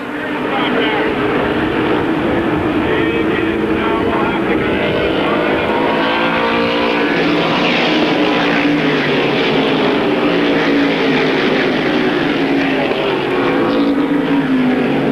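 Race cars roar around an oval at Airborne Raceway during a 1994 season-finale battle for fourth, a loud continuous engine drone with shifting pitch as cars pass, overlaid by commentary.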